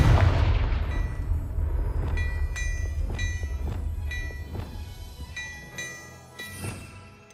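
Spell effects in the video game Hogwarts Legacy: a heavy booming blast at the start, then a series of sharp, ringing magical hits and chimes at irregular intervals, fading out.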